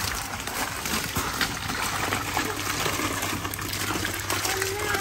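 Water gushes and splashes steadily while fish are being caught by hand in shallow water, a continuous rushing wash close by, with a voice talking over it.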